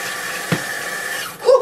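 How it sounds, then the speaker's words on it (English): A kitchen tap runs steadily while hands are rinsed after prepping salmon, a constant moderate hiss of water with a brief bump near the middle and a splashy swell at the end. "Rinse my hands."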